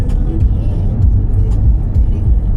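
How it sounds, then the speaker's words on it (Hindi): Steady low road rumble and engine drone from a car cruising at about 80 km/h on a highway, continuous and close, with no talk. "आप देखो गाड़ी कैसे चल रही है"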